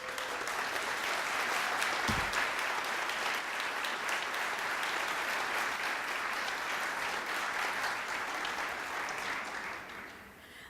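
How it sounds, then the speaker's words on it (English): An audience at a mayoral inauguration in Louisville gives a sustained round of dense applause, steady and full for about ten seconds before tapering off at the end. "I want an even louder round of applause for the families of all of these elected officials"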